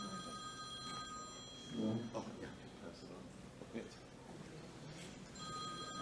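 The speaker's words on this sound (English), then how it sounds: "think that's my phone" A telephone rings faintly in a room, its tonal ring starting, breaking off and returning, while a person speaks briefly over it.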